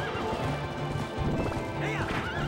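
Epona, Link's horse in Twilight Princess, whinnies with rising and falling neighs while hooves clop in a steady gallop rhythm, close and moderately loud over busy game sounds.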